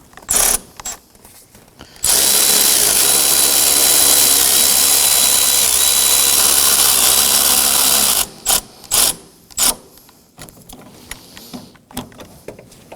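A ratchet tightens two 14 mm bolts on the engine mount of a 2014–2020 Acura MDX, one loud continuous burst of rapid clicking lasting about six seconds, followed by a few short separate ratchet clicks and clanks.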